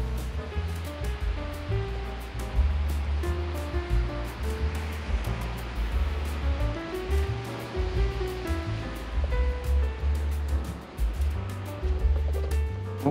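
Sea waves wash along the beach at Nha Trang, a continuous rolling surf roar with low rumble and swelling surges, heard alone without talk.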